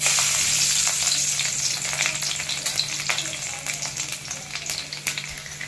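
Garlic and onions sizzling in oil for sev bhaji, a steady close frying hiss with scattered pops and scraping stirs that grow more pronounced toward the end.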